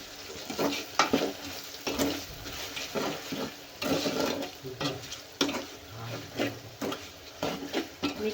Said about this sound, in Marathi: तर आपल्या भाज्या छान फ्राय झाल्या आहेत